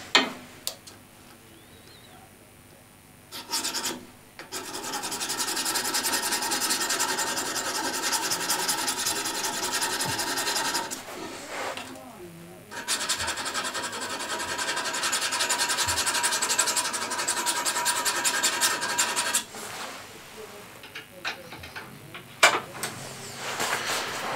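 Steel card scraper being burnished to raise a fresh burr, heard as long, close, gritty rubbing strokes in several sustained passes separated by brief pauses and light clicks.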